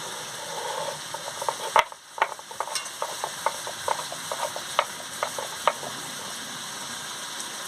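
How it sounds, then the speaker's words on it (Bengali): Chicken curry masala with ground cardamom, cinnamon and cloves being stirred and fried in a pan, with repeated scraping strokes of the spoon over a steady low sizzle, close and fairly quiet. "নিচ্ছি, কষিয়ে নিচ্ছি।"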